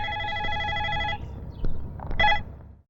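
A telephone rings with a repeating electronic bell tone for about a second, then a handset clatters and clicks as it is picked up, close and clear with no talk.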